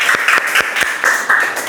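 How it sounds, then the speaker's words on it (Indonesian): A room full of people claps for a presenting student group, a brief burst of dense, steady applause with rhythmic hand claps standing out near the microphone. "beri aplaus untuk kelompok"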